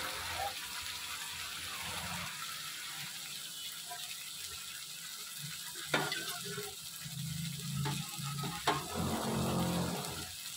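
A spice paste sizzles softly in oil for an eggplant dish, a low steady crackle with a few sharp clinks of a utensil against the pan and brief bursts of louder stirring near the end.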